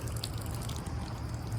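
Water runs steadily through two long pressure washer hoses, 200 feet in total, producing a continuous close trickling, dripping wash of sound.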